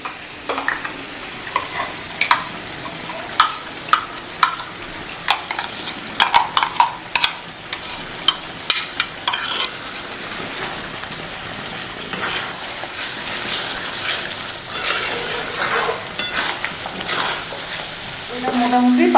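Mughlai chicken masala with ground spice paste being sautéed and stirred in a pan, steady frying sizzle with repeated close scraping strokes of the spoon, no talking.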